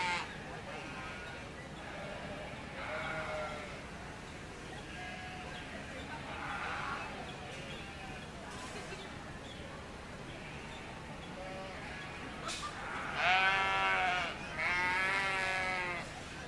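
Lambs at a 4-H/FFA market lamb show bleat repeatedly across a crowded indoor ring, several cries spaced out with louder ones near the end, while an announcer's voice talks underneath.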